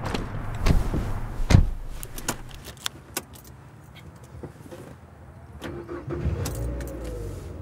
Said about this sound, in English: Here's my car.